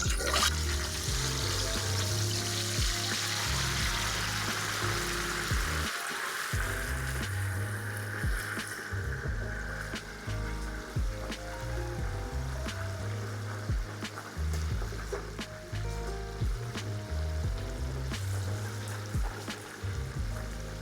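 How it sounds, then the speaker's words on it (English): Whole turkey lowered slowly into hot oil in a Cajun-style outdoor deep fryer, producing a steady, loud bubbling, frothing sizzle that swells and churns continuously throughout, with no talking. "So let's get this thing in the fryer."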